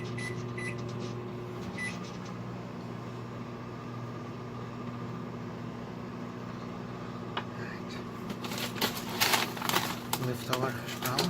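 A steady, low electric hum of a running microwave oven, with faint clatter and brief rustling toward the end.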